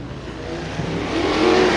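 Sprint cars on a dirt oval roar together as they come down into turns three and four, a dense, loud, sustained engine drone that rises slightly, heard close.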